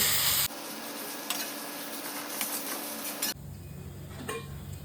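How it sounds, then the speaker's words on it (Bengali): Taro leaves (kochur shak) stirred in a pan over low gas, soft sizzling under scraping strokes of a spoon against the pan, with a few clicks and a quieter stretch near the end. "এখন একটু গ্যাসটা হালকা কমিয়ে বেশ কিছুক্ষণ ধরে এটা নাড়াচাড়া করে টানিয়ে নেব।"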